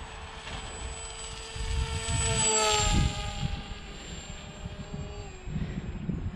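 The electric motor of an H-King AXN RC plane whines in flight, rising in pitch as it powers up and then easing off, heard at moderate distance over outdoor wind rumble.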